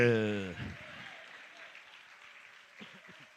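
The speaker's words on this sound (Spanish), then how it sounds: "Dale fuertes aplausos a Jesús de Nazaret." A church congregation at a worship service applauds in a steady, moderately loud wash of clapping that carries through the clip after a voice stops speaking. Another voice briefly cuts in near the end.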